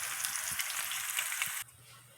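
Chicken breast sizzles steadily on a stovetop grill, a bright continuous hiss with small pops and crackles, close and alone, that drops away abruptly near the end.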